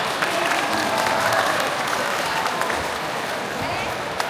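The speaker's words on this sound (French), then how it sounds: "On les applaudit très fort." Audience at an Asian festival dance event in Bussy applauds, a dense wash of clapping from a crowd at a moderate distance, steady throughout with faint voices mixed in.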